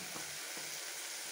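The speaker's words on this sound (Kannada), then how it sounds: "ಇದನ್ನು ಕೂಡ ಫ್ರೈ ಮಾಡ್ಕೊಳ್ಳೋಣ." Brinjal pieces fry with green chillies and turmeric in hot oil, giving a steady close sizzle with a couple of soft stirring scrapes.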